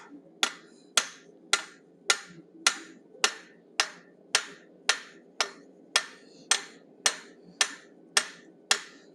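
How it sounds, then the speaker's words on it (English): A rounding hammer forging metal strikes sharply and ringingly at a steady, even pace, about eighteen blows, each with a brief metallic ring, close and alone. "using my rounding hammer, I'm going to bring back any flare we might have gotten."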